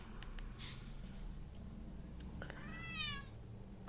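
Short, high cat meows from a cute cat-placing video game, heard as two brief calls, one early and a clearer rising-falling meow near the end, fairly quiet over a soft lo-fi background.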